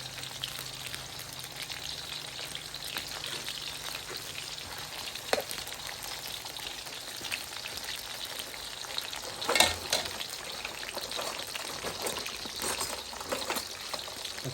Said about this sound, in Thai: จะคอยทอดเบาไฟไว้